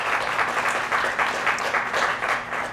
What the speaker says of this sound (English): So a round of applause for yourselves as well